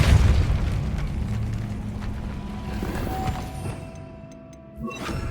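A Confringo spell explodes in Hogwarts Legacy, a deep heavy boom at the start that rumbles and fades away over several seconds.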